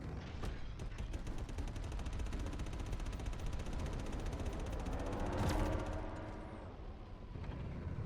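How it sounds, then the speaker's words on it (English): Rapid, sustained gunfire from ship weapons in a space battle in the video game Star Citizen, a dense repeating burst over a constant rumbling hum, with a louder swell near the end. "I'm guessing this guy's still in the fight because he's shooting."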